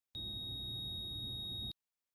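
A single loud, steady electronic beep from a Go Power! GP-PWM-30-UL digital solar charge controller showing a POL battery error, high-pitched and unbroken, lasting well over a second before cutting off abruptly.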